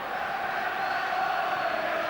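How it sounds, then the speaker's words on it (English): Football fans of Dundee United and St Mirren singing and cheering at Hampden stadium during extra time of a cup final, a steady, dense crowd roar filling the whole moment without pause. "listen to the singing and cheering around the stadium from both sets of fans"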